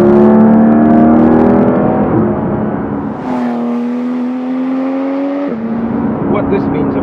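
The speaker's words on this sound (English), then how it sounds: "Now the engine note is a little bit harder than the normal Porsche, as you would expect." A Porsche 911 GT3 RS engine holds steady, high revs while driving, a loud, close, harmonic drone that dips and climbs between gear changes, with someone talking over it.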